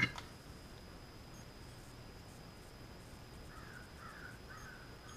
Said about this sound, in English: Crows are happy this morning.